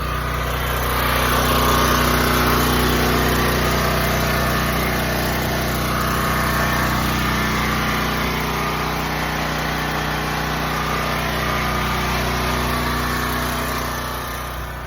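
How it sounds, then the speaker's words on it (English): A Duramax XP13000 tri-fuel generator serving a food truck runs steadily, a loud continuous engine drone with a buzzing hum that holds level for about fifteen seconds, close by with no talk. "I wanted to do a review on the Duramax. It's a little loud, but let me go show you real quick."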